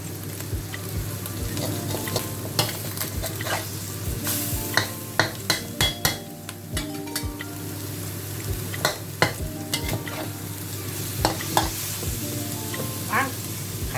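Egg and pork stir-fry in a wok, a steady moderate sizzle broken by frequent sharp metallic scrapes and clacks of a spatula against the pan at an uneven rhythm.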